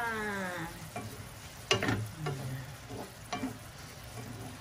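Ground chicken and string beans stir fry simmering in a pan, a low steady bubbling with a few clear scrapes of a utensil against the pan, close by and with no talking.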